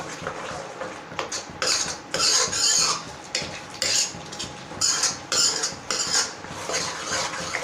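A spoon scrapes and clatters against a cooking pot while spinach curry with spices is stirred for Amritsari palak nutri kulcha, giving irregular close metallic scrapes and knocks in bursts about every half second to second, with no talking.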